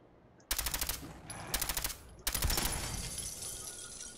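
Automatic gunfire in the video game Fallout 4: three rapid bursts of shots, the last and longest trailing into a lingering echo, fairly close and with no talking over it.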